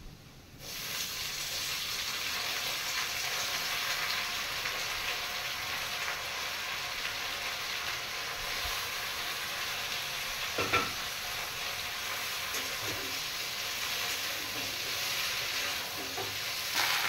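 Potatoes and water spinach tossed into a pan of fried onions, sizzling in a constant loud hiss with occasional stirring scrapes and clatters of the utensil.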